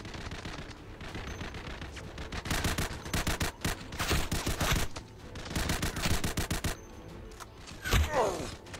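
Bursts of automatic gunfire crackle through a video game firefight, with rapid volleys and heavy thuds rising and falling across the clip, loud and close.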